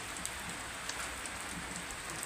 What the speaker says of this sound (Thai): วันนี้ฝนตกอีกแล้ว